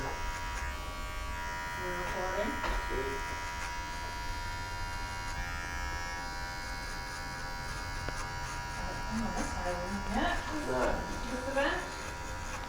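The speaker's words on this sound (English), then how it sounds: "When I'm clipper close, just setting my first guideline." Electric hair clippers buzz steadily and close throughout a barbershop haircut, under two people chatting.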